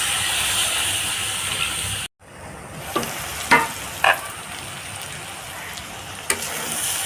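Curry in a pan gives off a continuous loud sizzle and steamy hiss. A sudden hush follows, then softer frying with a few scraping stirs of a spoon against the pot.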